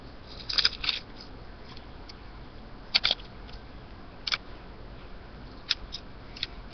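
Scissors snipping through paper while making an American Girl doll notebook, a few short crisp cuts in small clusters with quiet pauses between them, close and fairly faint.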